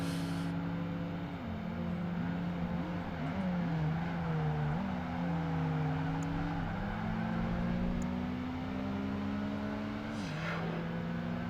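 Honda S2000 and Porsche engines roaring in a Project Gotham Racing 2 sports convertible race, a steady loud rising and falling engine drone with gear-shift dips throughout.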